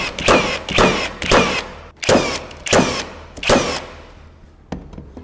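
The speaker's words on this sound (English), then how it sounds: "what I'm going to do next is switch this to bump mode, claiming 3 nails per second" A Flex 24V cordless nailer fires 2.5-inch nails into yellow pine in bump mode, six loud sharp bangs in quick succession roughly every half second, then a pause and a fainter final click.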